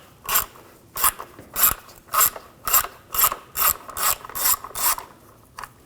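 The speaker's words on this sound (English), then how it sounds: "Now using a T25 socket, I'll take this screw out." A ratchet fitted with a T25 socket backs out a screw during radiator replacement on a 2007-2013 BMW 328i 3.0L inline-six, giving about ten rhythmic bursts of sharp, close mechanical clicking with no talking.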